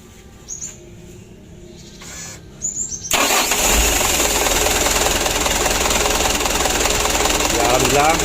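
A Mitsubishi Canter 136 PS diesel truck with a starting fault cranks in short bursts, then fires up and settles into a loud, steady, clattering idle close by.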